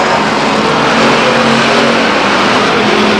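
Race cars circle the Stockton 99 Speedway oval during a 2001 event, a loud, continuous engine roar filling the whole stretch with no break.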